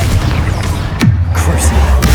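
A Confringo fire spell explodes in the game Hogwarts Legacy with a booming blast after a character shouts the spell name, followed by a low rumble and scattered smaller crackles.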